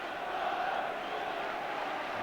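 A sustained, distant wash of massed voices from the stands at a Manchester City home FA Cup quarter-final against Tottenham, with the crowd chanting to lift the home side.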